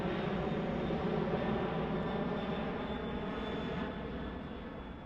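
Steady, dense drone of an airplane engine heard from inside the cabin at cruising altitude, 33,000 feet up, in the visual novel game Remember 11; constant and fairly loud throughout, with no talk.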